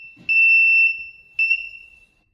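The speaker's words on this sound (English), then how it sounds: "Test complete. Buzzer alarm." An electronic buzzer alarm on a gas cylinder hydrostatic test machine sounds two loud, steady high-pitched beeps at the end of a test, the first long and the second shorter and fading, then silence.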